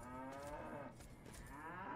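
Cattle in the Fallout 3 video game give a long, low moo over steady, dense background noise, fairly faint and continuous with no talking.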